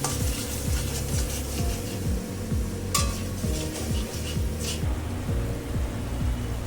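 A spatula rhythmically scrapes and stirs spice masala loosened with a little water and a pinch of sugar in a pan for a dhaba-style Bengali egg curry, with regular strokes over a soft sizzle and one sharper clink.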